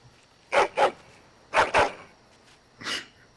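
A dog in the game Dragon Age: Origins makes five short, rough growling barks in pairs and then a single one, close and fairly loud with quiet gaps between.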